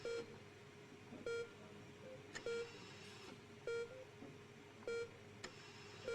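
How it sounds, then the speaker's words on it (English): Short electronic heart monitor beeps from the video game Not for Broadcast repeat at a steady, unhurried pace over a low ambient hum, each a bright, clipped tone. "The rhythmic beeping of the heart monitor brings you slowly back to consciousness."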